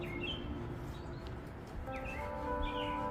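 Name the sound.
birds calling in the distance during solar eclipse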